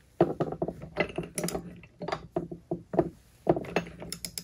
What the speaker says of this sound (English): all we're waiting for is this torque wrench to click